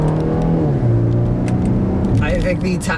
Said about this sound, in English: So I'm going to try and put in a manual mode here and see how we do on the downshifts